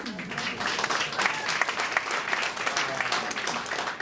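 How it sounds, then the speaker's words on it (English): A room full of people at a DC Council candidate debate forum claps steadily for several seconds, a dense, even patter of applause. "if you can give yourselves a round of applause"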